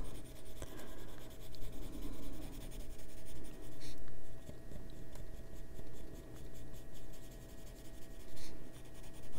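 Colored pencil scratching steadily across an adult coloring book page, a close, continuous dry rasp of strokes with a few sharper taps, no voices.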